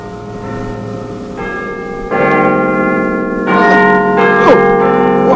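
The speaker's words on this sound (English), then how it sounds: "Now, the doorbell." Loud, resonant bell-like chimes from a doorbell ring out in overlapping, rising notes that build in layers and sustain, close and alone without voices.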